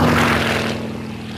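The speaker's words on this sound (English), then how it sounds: "First over the line, this beautiful piston engine Provost, flown by Group Captains Steve Holding and Dave Mickleborough" A piston-engine Provost aircraft flies past low and loud, its propeller drone strong at first and then fading a little as it moves away, with a steady buzzing whine and no talking.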